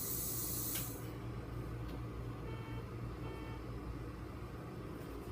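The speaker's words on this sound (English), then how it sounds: "I'm going to spray with alcohol here." A short hiss of alcohol spray burst near the start, then a steady low hum of background noise continues.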